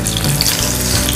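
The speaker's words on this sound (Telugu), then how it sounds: "తర్వాత ఈ ముక్కల్ని ఈ వేడి వేడి నూనెలో ఫ్రై చేసేసుకుందాం" Chili pieces for bajji frying in hot oil, a loud, dense and constant hiss of bubbling fat with no pauses and no voices.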